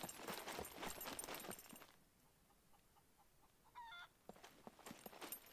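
A chicken in the video game Scum clucks in a few short, fairly quiet bursts, with a brief higher squawk, over game ambience; no talking.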